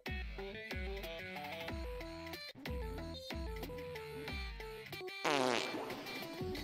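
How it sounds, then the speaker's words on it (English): Fart sounds in the rhythm game Friday Night Funkin': a loud run of buzzy, pitched blasts that step up and down like a tune, each cut off sharply, with no talking. "I'll take a fart, though."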